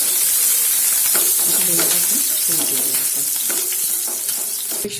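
Mustard seeds and green chilies sizzle in hot oil for a filling of stuffed green tomatoes, a constant bright frying hiss with small pops and crackles as the pan is stirred, close and steady.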